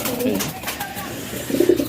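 Pigeons in a coop give short, close, soft cooing calls, with a louder burst of cooing at the end.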